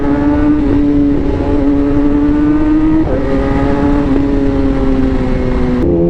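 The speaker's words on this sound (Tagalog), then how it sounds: "All you will hear is the sound of muffler." A big motorcycle's engine and muffler exhaust rev in a steady, loud, close drone, the pitch rising slightly, dropping back, then climbing again in a few swells over several seconds, with no voices.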